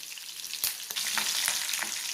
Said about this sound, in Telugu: పచ్చనిపప్పు, జీలకర్ర, ఆవాలు, అట్లాగే పచ్చిమిరపకాయ ముక్కలు కట్ చేసుకున్నాయండి. వెల్లుల్లిపాయ దంచి పెట్టుకున్నది, కరివేపాకు అన్నీ ఫ్రై చేయాలి.